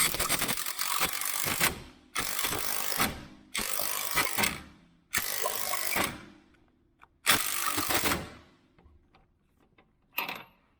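A wrench ratchets a nut down on a shock absorber of a C3 Corvette, compressing the rubber bushings, in five separate bursts of quick clicking a couple of seconds apart, close and fairly loud, with no talk.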